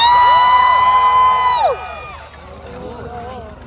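A crowd at a medieval festival joust whoops and cheers, opening with a long sustained high shout that slides down and breaks off, then scattered quieter calls and cheers trailing after.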